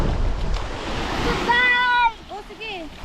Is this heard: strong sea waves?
yes